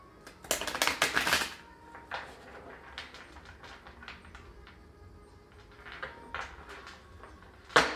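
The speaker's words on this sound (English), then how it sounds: "3 shuffles." Tarot cards shuffled by hand, a loud riffling burst near the start followed by softer taps and another flurry of card shuffling toward the end, close and with no talking.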